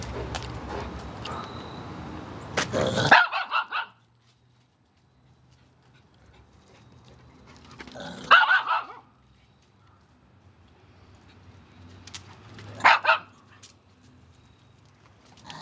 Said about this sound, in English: Yes, I said Shasha had a tougher bark.